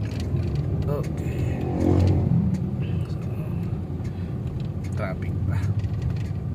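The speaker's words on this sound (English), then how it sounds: "Traffic pa." Road traffic near Manila City Hall gives a continuous low rumble, with a vehicle swelling past around the middle and people talking over the traffic noise.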